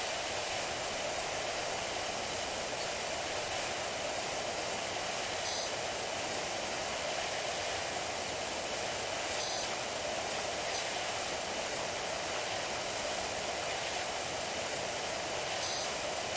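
A steady, loud hiss of a pressure washer spraying continuously in PowerWash Simulator, an unbroken white-noise roar filling the whole stretch with no talk.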